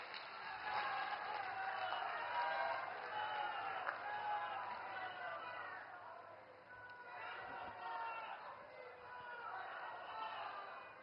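Applause from a large crowd at a public rally welcoming Prime Minister Narendra Modi, steady distant clapping and cheering that swells and dips over several seconds, with a voice on the loudspeaker over it.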